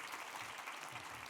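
Brief, steady applause from a conference audience closing a keynote session at the Seoul Future Conference, dense and even throughout.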